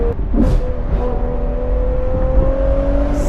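A Ferrari 812 GTS naturally aspirated V12 engine hums and revs steadily up close, a loud, continuous mechanical drone with rising and falling pitch.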